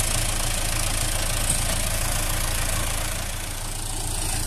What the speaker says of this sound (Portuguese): Aqui o trator não subiu mais, começou a patinar.